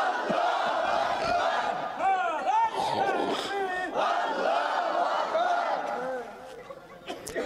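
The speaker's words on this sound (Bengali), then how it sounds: "দুটি হাত তুলে তাকবীর দিয়ে দেখা দেন।" A large crowd at an outdoor Islamic sermon in Gaibandha shouts takbir together in loud, rising collective cries that swell and fade in waves before tapering off near the end.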